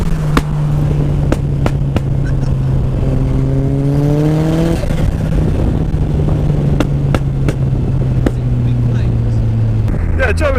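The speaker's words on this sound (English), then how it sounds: "you put your foot down and it's still going to pull. That was in 6th gear." An RX-5 250 sports car, billed as a 680 BHP per ton rival to the Ariel Atom, pulls hard in sixth gear with a steady engine drone and rising whine, its note climbing and shifting near the end, while people talk over it.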